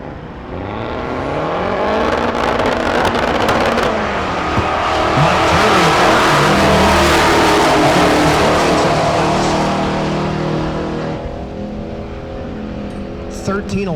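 Fox Mustang making a drag racing pass at Tulsa Raceway Park, a loud sustained engine roar building and holding for most of the run before easing off, with an announcer talking over it throughout.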